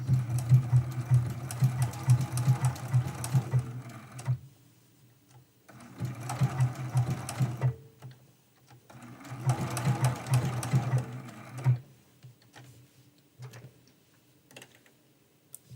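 A sewing machine runs in three bursts of steady rapid stitching on a quilt block, each lasting several seconds, separated by short quiet pauses. The sound is close and clear, with no talking over it.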